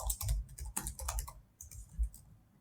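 A short, quiet run of typing on a computer keyboard, soft clicks in uneven bursts with a pause before a final few keystrokes.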